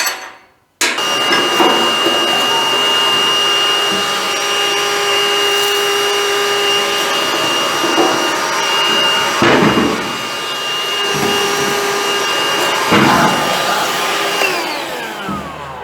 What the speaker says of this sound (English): Let me see if I can't vacuum some of that slag out.